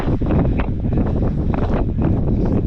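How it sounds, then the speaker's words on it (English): Strong wind on Whitecap Mountain along the Appalachian Trail, a loud continuous roar of gusts buffeting the microphone with no pauses. "It's so exhilarating to be in this wind"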